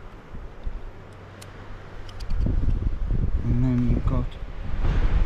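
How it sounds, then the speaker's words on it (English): Strong wind blowing outdoors during a bike ride, a steady rushing roar and buffeting against the microphone that grows louder midway, with someone talking over it. "this wind is just determined to blow everything away"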